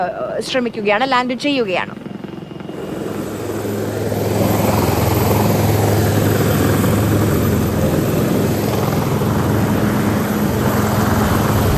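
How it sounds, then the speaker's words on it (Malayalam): An Indian Air Force helicopter comes in to land and builds from a distant drone to a loud, steady rotor roar that dominates the second half. A brief burst of talk comes at the start. "ഇപ്പോൾ ആ ആർമിയുടെ ഹെലികോപ്റ്റർ ലാൻഡ് ചെയ്യുകയാണ്."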